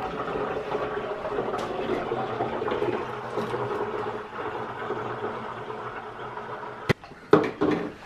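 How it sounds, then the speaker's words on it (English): Honey water pours through a tiny plastic funnel into a carboy with a steady, gurgling liquid rush, moderately close, ending in a few clunks and knocks of the funnel and glass. "we're just gonna get the honey in there."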